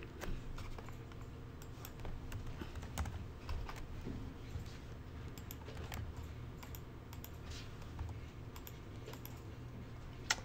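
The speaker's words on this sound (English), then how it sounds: "let's see if I type" Steady typing on a computer keyboard fills the whole stretch: continuous close key clicks with small irregular bursts, no talking, over a low room hum.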